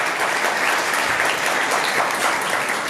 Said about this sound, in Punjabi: ਇੱਕ ਵਾਰ ਤਾਲੀ ਵਜਾ ਦਈਏ ਪ੍ਰਭੂ ਦੇ ਇੰਤਜ਼ਾਮ ਵਾਸਤੇ।